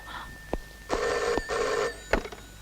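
A telephone bell rings in a scene from a Telugu family film, sounding two longer rings between short clicks, fairly quiet and with no voices over it.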